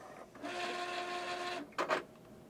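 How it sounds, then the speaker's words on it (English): Epson PRO 3800 printer shutting down: a soft mechanical whir with a tonal hum runs for over a second, followed by two quick clunks as the mechanism parks, fairly quiet and close. "we'll go ahead and turn the printer back off."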